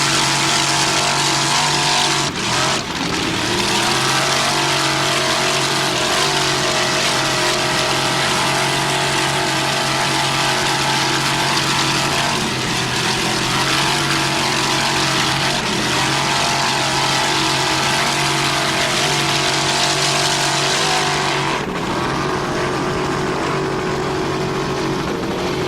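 Offshore racing powerboats, including a 28-foot Mana with a single 700-horsepower Crash Marine Racing inboard and Mercruiser drive, roar continuously at full throttle during a Key West world championship race, loud and sustained with shifting engine pitch.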